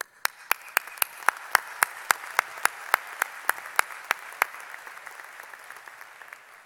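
Slow, evenly spaced single handclaps, about twenty sharp close claps in a steady rhythm, offered to first-generation graduates at a university commencement ceremony, fading slightly toward the end.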